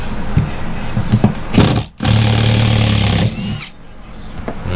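Power drill or driver backing long screws out of an RV motorhome interior, loud and close, with bursts of whirring motor, a brief pause, then a long sustained run that winds down.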